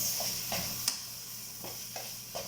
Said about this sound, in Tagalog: ihaki-haki natin habang malakas ang apoy para madali matapos